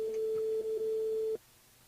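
An outgoing phone call ringing on a mobile line during a live radio show, a single steady electronic tone held for over a second, then cut off into quiet.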